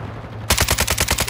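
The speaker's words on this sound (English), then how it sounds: "Stop shooting at the wall!" A burst of rapid automatic gunfire from Call of Duty: Modern Warfare II erupts after a brief quiet moment, loud and close, with evenly spaced shots firing in quick succession.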